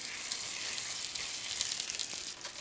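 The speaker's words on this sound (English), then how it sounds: "we're starting by frying it in oil" Plaice fillet, salted and peppered side down, frying in oil in a pan, giving a steady, close, hissing sizzle with faint crackles throughout and no talk.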